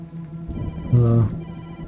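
In the game Tokyo Dark, a phone rings from inside a filthy paper bag swarming with flies: a single loud electronic trill over a low hum.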